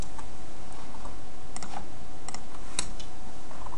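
Someone types on a computer keyboard while entering a zip code into a form, a close, quick scatter of separate key clicks over a steady background hiss, with no talk.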